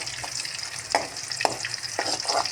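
Onions stirred as they fry in a pan, a close, continuous sizzle broken by a few quick scraping strokes of a spoon, with no talking.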